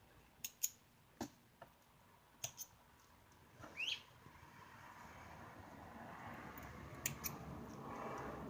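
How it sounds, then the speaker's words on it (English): A few sharp, quiet scissor snips cut sewing threads, isolated clicks spaced a second or so apart in a quiet room, with light handling noise between them. "Let me go ahead and cut my threads."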